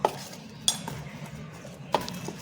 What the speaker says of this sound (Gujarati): હવે આપણે આનાથી આપણે સારી રીતે બધું મિક્સ કરી લઈશું